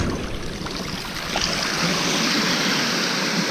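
Sea waves wash onto the shore at night at Eastbourne, a loud, broad rushing surf that swells partway through and then holds steady, with no voices.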